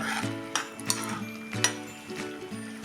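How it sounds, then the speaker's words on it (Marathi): A spoon stirs boiling amla syrup in a pan over a medium flame while amla pickle is made, giving soft scraping strokes and bubbling at a fairly quiet level, with a few sharper knocks against the pan and a faint hum underneath. "आता सतत हलवून हे आपण चांगलं आठवून घेऊया"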